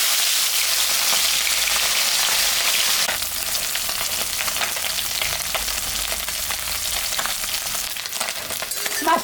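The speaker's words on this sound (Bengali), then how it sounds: "মাছটা এখন আমি ভাজবো।" Raikhor fish fries in hot oil in a kadai, giving a loud, steady sizzle with crackling and occasional light clinks throughout.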